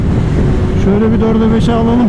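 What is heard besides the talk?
strong wind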